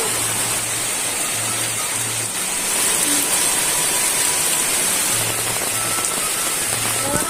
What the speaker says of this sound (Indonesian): Dan akhirnya hujan gede juga kawan-kawan ya.